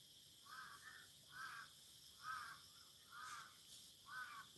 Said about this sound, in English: Can you hear these crows?